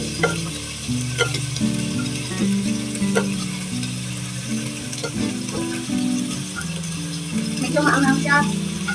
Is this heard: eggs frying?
yes